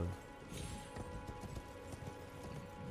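Horse hooves clip-clop in steady rhythm while riding a horse in the video game Elden Ring, a busy mix of hoofbeats and ambient game sound throughout.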